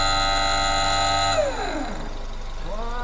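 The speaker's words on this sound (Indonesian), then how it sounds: "itu suara ABS" A car's ABS pump motor runs during a brake system test, giving a loud, steady mechanical buzz that winds down partway through and then starts to spin up again.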